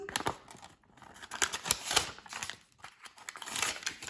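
Paper banknotes and envelopes are shuffled, flicked and stuffed during cash budgeting at a table, giving close, busy rustling and crisp paper snaps in uneven bursts, with no talk.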